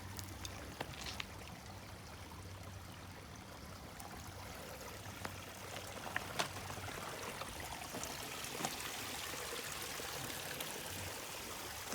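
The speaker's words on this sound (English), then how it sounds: "So here's a little creek here." A small creek on the Baden Powell Trail flows in a steady, moderate babble of water, continuous and fairly near, with occasional brief splashes and no voices.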